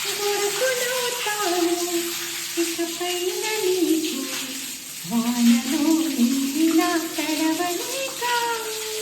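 Leftover water drains out of a newly fitted bathroom wall mixer tap after the supply has been shut off, a gurgling rush with warbling, whistle-like tones that wobble in pitch and briefly surge midway.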